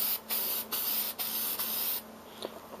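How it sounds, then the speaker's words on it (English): Clear coat sprayed from a can onto a woven pine wood bowl in a few sustained hissing bursts separated by short pauses, close and steady, with no talking. "So I'm going to just go ahead and give this a spray over"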